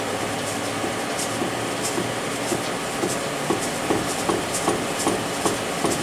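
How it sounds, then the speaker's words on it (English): A Sunnen ML-3500 horizontal honing machine keeps stroking, a steady broadband mechanical hiss with faint rhythmic clicks repeating about every half second, continuous and moderately loud. "So it's going to keep stroking."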